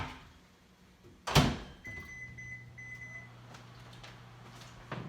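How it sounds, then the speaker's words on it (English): A kitchen microwave oven is closed with a sharp clunk and set with beeps to heat spaghetti squash on a small plate for 2.5 minutes, followed by its low, steady running hum. "So I'm gonna go put it in the microwave, put it on a little plate here."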